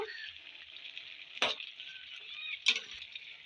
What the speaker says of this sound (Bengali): আবারও একবার হালকা আলতো হাতে নেড়ে দেবো